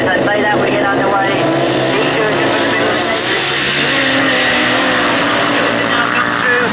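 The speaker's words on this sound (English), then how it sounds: "It sounds as if the revs are starting to go up." Grasstrack racing motorcycles rev and start, engines roaring and revving steadily throughout, a dense motor drone with rising pitch, under faint crowd or announcer noise.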